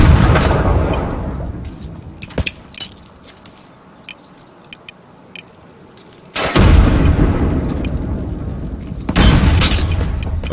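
Video game gunfight with a grenade explosion and gunfire: a heavy roaring blast opens, sharp isolated shots crack during a quieter stretch, then two more loud, sustained bursts of explosive noise follow.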